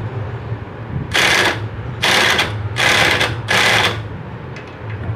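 A ratchet wrench tightens a 13 mm special bolt on the camshaft sprocket of a Honda motorcycle, four bursts of rapid clicking ratchet strokes, close and clear over a steady low hum.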